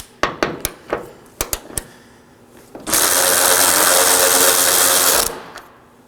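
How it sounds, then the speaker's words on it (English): A ratchet fitted with a 13mm socket backs out hood hinge bolts on a 2013-2019 Nissan Sentra. Sharp, quick clicks come in short bursts, then a steady mechanical whir runs for a couple of seconds before stopping. "Now I'm going to locate my top bolts. I'll be using a 13mm to remove them."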